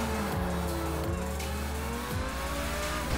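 Car driving hard in the video game GTA Online, a loud revving engine with repeated gear-shift pitch drops and tire squeal, continuous and close.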